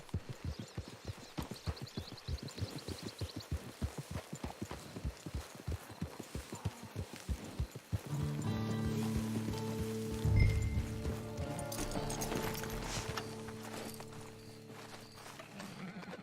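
Horse hooves clip-clop in a fast, rhythmic gallop in the Red Dead Online video game, then give way to a steadier wash of ambient sound with a brief whinny.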